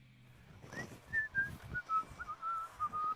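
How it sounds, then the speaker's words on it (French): A man whistles a tune while he works, a series of short, clear notes that gradually settle into a higher melodic line over faint background noise. "travaille en sifflotant"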